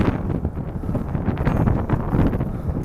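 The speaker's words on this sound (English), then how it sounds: "you can hear the wind. It is very windy out here right now." Strong gusty wind blasts across the microphone outdoors at Flushing Meadows–Corona Park in New York City, a loud continuous low rumble with buffeting, no speech.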